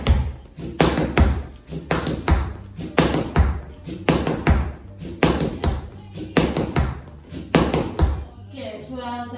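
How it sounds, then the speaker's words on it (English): Heels scrape and tap on the floor during a seated foot and ankle exercise, a series of loud, rhythmic swishing strokes about every half second, close to the microphone. "So you should hear a good scraping noise"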